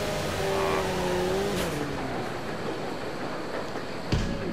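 A tuned car's engine revs and pulls hard under acceleration in the Fast and Furious Tokyo Drift racing game, with a rising whine, a gear-shift break and a sharp thump near the end, loud and close with no talking.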